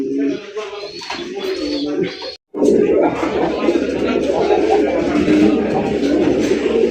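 Fancy racer pigeons coo steadily in a low, throaty murmur with some chirps, a continuous flock sound close by and running on with no pause except one brief gap.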